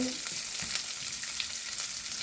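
Peeled garlic cloves and sliced onion sizzle steadily in oil in a hot pan for a Tamil keerai poriyal, a soft continuous frying crackle with no voices.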